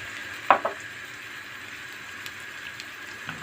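Soft, low sizzle of ingredients sautéing in a pan for güveç, a Turkish casserole with sun-dried vegetables, salt and chili flakes, with a couple of sharp utensil knocks near the start and scattered faint clicks.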